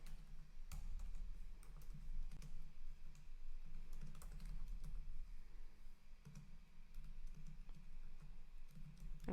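A computer keyboard clatters steadily as a campaign name is typed, with soft quick keystrokes in an even run, close and unaccompanied by speech.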